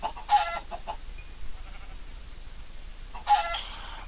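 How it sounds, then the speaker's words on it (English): Video game chickens in a Minecraft-style world: two short clucks, one near the start and one near the end, moderately loud over quiet background, with no talking. "Oh, chickens."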